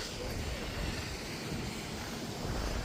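A small waterfall in the Peak District gives a steady, close, full-bodied rush of falling water that carries on without a break, with no voices heard.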